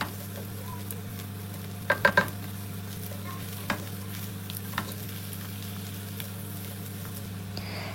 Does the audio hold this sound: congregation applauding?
no